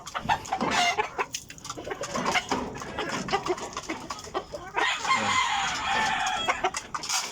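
Backyard chickens, including sweater-mix hens, cluck busily at feeding time in the morning while a rooster crows nearby, with a busy, close flock chorus and no talking.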